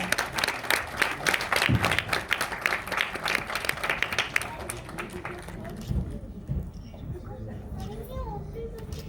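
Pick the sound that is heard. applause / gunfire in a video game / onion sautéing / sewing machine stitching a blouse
applause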